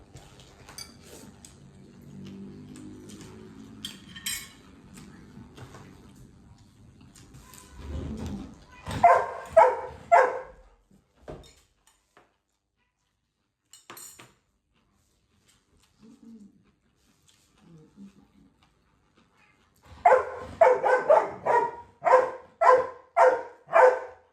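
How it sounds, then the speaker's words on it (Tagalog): A dog barks in sharp bursts: a cluster of barks early on, then a quiet stretch with small clatters, and finally a rapid, loud volley of barks. "Ingay ni Bisco. Nagugutom na rin yan"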